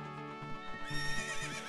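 A horse whinnies in The Legend of Zelda: Ocarina of Time, a short rising and quavering neigh layered over game hoofbeats, heard alone and fairly quiet.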